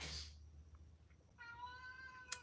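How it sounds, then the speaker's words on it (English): A pet cat gives a single drawn-out meow in a quiet room during a live watercolor and dip pen painting session, with a brief soft clatter before it and a click at the end. "That's our cat."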